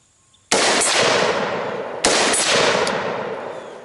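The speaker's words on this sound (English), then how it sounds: "2 shots off the cuff, just freehand." A rifle fires two loud shots freehand while being zeroed outdoors toward a target 100 yards away, each blast sharp and followed by a long echoing decay, about one and a half seconds apart.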